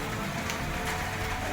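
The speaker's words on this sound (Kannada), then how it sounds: "ಗಾಳಿ ಬೇರೆ ಜಾಸ್ತಿ, ಮಳೆ ಬೇರೆ ಬರ್ತಾ ಇದೆ." Steady rain falls outdoors during a Ganesha festival procession on a windy day, a dense, even hiss with no break and no voices, moderately quiet.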